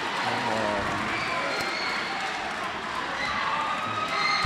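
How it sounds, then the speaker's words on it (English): A crowd roars and cheers at an MMA championship event, a dense, continuous arena noise with scattered clapping running loud and unbroken throughout. "You can hear the crowd."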